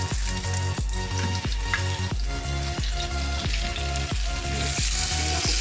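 French toast with onion frying in a pan gives a steady, close sizzle, with a regular rhythmic tonal layer, like background music, pulsing beneath it throughout.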